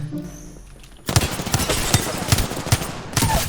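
Rapid automatic gunfire bursts out in an Apex Legends match after a quiet moment, loud close shots in a steady rhythm for about two and a half seconds.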